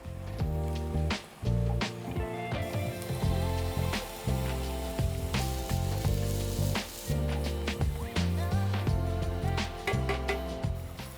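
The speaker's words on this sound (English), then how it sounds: "Now we're gonna go straight onto our griddle with some bell peppers and onions." Bell peppers and onions sizzle on a Weber griddle attachment, a loud, continuous frying crackle with scattered pops and scraping stir sounds throughout, no voices.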